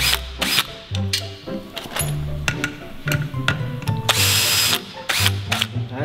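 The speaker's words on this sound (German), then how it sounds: "mit so einem Akkuschrauber ist ja natürlich schon was anderes" A cordless drill/screwdriver runs in short, loud bursts with stops in between, its motor whine rising and falling, with ratcheting clicks between bursts.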